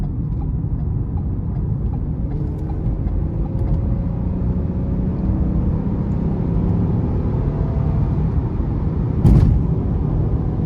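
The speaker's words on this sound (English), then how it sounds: "I'm gonna give it some throttle here getting on the interstate." A 2011 Lincoln MKX AWD with a 3.7 engine accelerating up an interstate on-ramp, a steady loud cabin drone of engine and road noise building gradually, with a brief sharper bump near the end.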